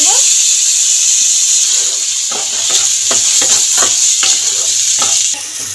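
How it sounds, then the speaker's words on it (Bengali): Soaked and drained Gobindobhog rice stirred and fried in oil, a loud close sizzle broken by repeated scraping strokes of a spoon at an uneven rhythm. "তেলের মধ্যে আগে থেকে যে চালটা ভিজিয়ে রেখেছি, ভালো করে জল ঝরিয়ে রেখেছি গোবিন্দভোগ চালটা"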